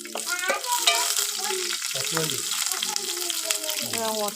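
Curry leaves and green chillies crackle and sizzle in a pan while being stirred, with scraping strokes and a voice faintly audible in the background.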